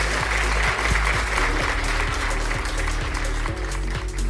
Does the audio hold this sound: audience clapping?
yes